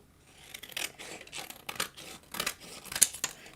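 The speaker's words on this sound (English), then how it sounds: "I'm going to go ahead and just trim around my frame so that that just fits real square" Scissors trim paper around a card frame, a series of close, crisp snipping strokes in an uneven rhythm with short pauses, quiet and with no talking.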